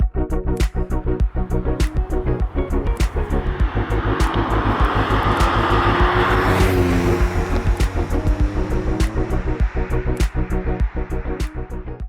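A right-hand-drive Jaguar XJ220 engine runs with a loud, close, rhythmic throbbing pulse, swelling briefly in a rev around the middle before settling back to a steady beat.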